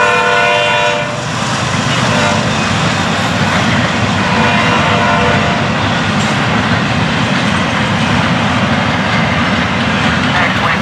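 A loud Florida East Coast Railway freight train, FEC 204, roars past continuously and close, its horn sounding briefly near the start over the heavy rolling rumble.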